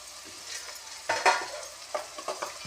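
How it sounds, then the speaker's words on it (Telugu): Onions frying in a pan for chicken curry, stirred with a few close spoon scrapes over a soft, steady sizzle. "ఆనియన్స్ బ్రౌన్ కలర్ వచ్చే వరకు ఇలాగ కలుపుతూ ఉండాలి"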